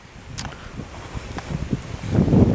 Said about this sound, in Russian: а ветер такой прохладненький и белые шапки на море